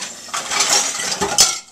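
Metal clattering and scraping while a cooking pan is cleaned in a kitchen, a quick run of clinks and rattles up close, ending in a sharper clank.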